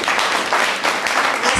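Dense applause from parents at a girls' high school Form 1 orientation meeting, a steady burst of many hands clapping close by, filling the short moment without speech.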